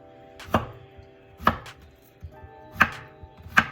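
A knife slices squash on a cutting board in four crisp, evenly spaced thuds, close and clear with quiet pauses between cuts and no talking.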